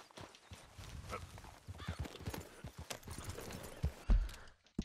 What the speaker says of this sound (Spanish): Vamos a coger el caballo.